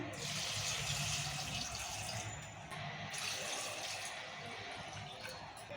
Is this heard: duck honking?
no